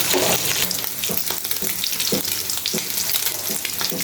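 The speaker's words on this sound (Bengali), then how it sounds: "পরিমাণ মতো তেল দিব, চিংড়ি মাছ ঢেলে দিব। চিংড়ি মাছটাকে ভালোভাবে ভেজে নেব।" Prawns fry in hot oil for a stew-style mash with taro stems, giving a steady loud sizzle broken by several short stirring scrapes and clatters, with no talking.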